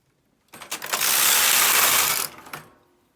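A Brother KH-260 chunky knitting machine's lace carriage sweeps across and selects needles, a single loud, steady mechanical rattle lasting over a second, with clicks at the start and end.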